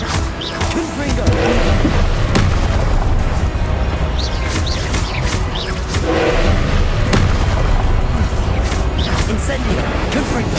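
Confringo blasting spell explosions in a Harry Potter game, a series of deep booms and thuds at irregular intervals over a steady rumble of combat sounds, with speech mixed in.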